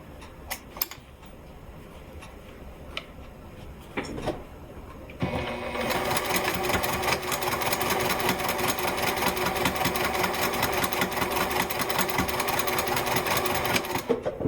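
Sewing machine stitching along the turned open edge of a fabric wallet, a steady, loud motor whir with rapid needle rhythm running continuously after a few quieter taps and clicks at the start.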